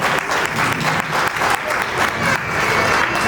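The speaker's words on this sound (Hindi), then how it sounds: "इसलिए हम चाहेंगे कि उनका भी अभिनंदन खूब जोर तालियों से किया जाए।" Audience applause welcoming a guest at a Vishwakarma Samaj annual community gathering in Gumla, a steady, loud wash of clapping from a crowd lasting the whole moment.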